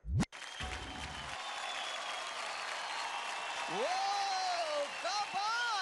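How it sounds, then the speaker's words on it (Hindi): A television dance show audience claps steadily, a sustained wash of applause that grows slightly louder, while whistle-like tones and a brief burst of other sound rise above it. "जोरदार तालियां हो जाए इन छोकरा के लिए"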